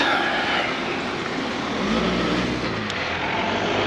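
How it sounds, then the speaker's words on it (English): Small bus driving past on a narrow coastal road near Penzance, a steady engine and tyre rumble that swells slightly as it passes, fairly close, with no talk. "tiny bus"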